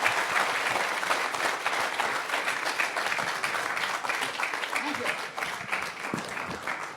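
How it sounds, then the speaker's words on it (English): A crowd applauds Phil Collins at the close of a morning interview event, with sustained, steady clapping that carries on for several seconds. "Could we have a round of applause, please?"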